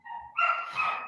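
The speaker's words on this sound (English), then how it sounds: "I can tell just by the tone of her barking that someone stepped outside without allowing her to follow." A young puppy, almost a year old, barks twice in quick succession, fairly close and clear, with a whiny, yelping edge and no talk over it.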